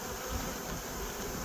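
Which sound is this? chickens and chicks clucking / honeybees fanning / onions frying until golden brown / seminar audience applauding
honeybees fanning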